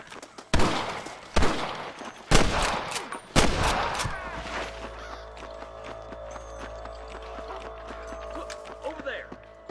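Sniper gunfire in the Red Dead Redemption video game: four loud, sharp rifle cracks spaced about a second apart, ringing out over a quieter ambient bed with game voices talking.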